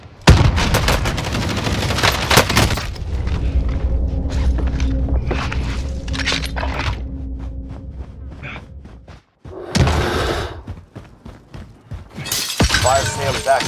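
Call of Duty Warzone airstrike and gunfire: a loud crashing blast opens into rapid bursts of shots and impacts, a brief cut to silence, then further explosive bursts, with radio-style voices speaking over the action.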